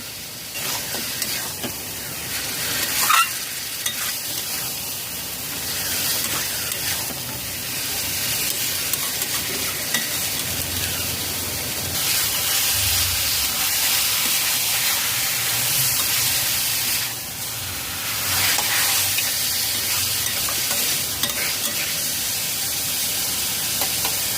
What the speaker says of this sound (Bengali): ম্যারিনেট করা চিকেন দিয়ে ছ মিনিট নাড়াচাড়া করে কষিয়ে নিয়েছি হাই ফ্লেমে